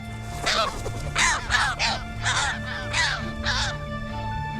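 Several harsh, raucous Audouin's gull calls in a loose series, fairly close, over a low steady hum of background noise.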